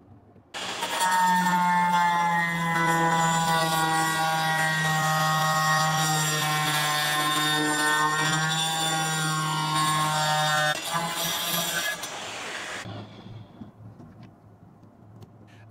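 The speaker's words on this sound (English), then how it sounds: "we have a most common type of grinder wood saw blade. Let's check out how to cut wood with it." Angle grinder fitted with a wood saw blade cutting through wood, a loud sustained high-pitched whine with a steady tone lasting about ten seconds, then spinning down to quiet.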